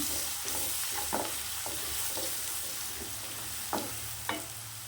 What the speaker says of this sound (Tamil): கொஞ்சம் கறி மசாலா நல்லா இந்த எண்ணெயிலே வதக்கிட்டுருங்க